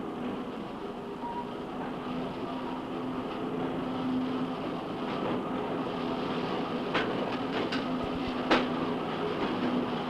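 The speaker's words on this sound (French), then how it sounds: "le progrès technique conduit à l'utilisation de grandes berlines, groupées en rames de fort tonnage," Heavy train of large mine wagons on carefully ballasted heavy rail, running at speed: a steady rumbling roll with faint clicks and a sharper clack near the end, fairly distant and continuous, no voices.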